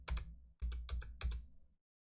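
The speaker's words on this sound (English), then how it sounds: "So you have to actually type in the full number." Keys tapped on a computer keyboard while entering a full number into a radioactive dating game program, three short bursts of clicks in quick succession, close and clear with no talk.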